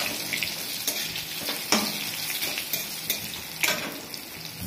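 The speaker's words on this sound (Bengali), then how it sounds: "এই দেখো লাউ ভাজছি" Sliced bottle gourd fries in a hot pan at close range, with a steady oil sizzle broken by sharp, irregular spatula scrapes and stirring clatter, and no talking.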